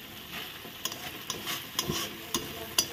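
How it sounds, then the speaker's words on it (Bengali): Spices sauté in a pan with a low sizzle, punctuated by several sharp scrapes and taps of a spoon stirring, quiet and close. "সব মশলা দিয়ে ভালো করে কষানো হচ্ছে"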